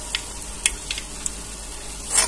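Boondi droplets of gram-flour batter fry in hot oil for motichur laddu, a soft, steady sizzle with a few faint crackles and pops, close and fairly quiet with no talking.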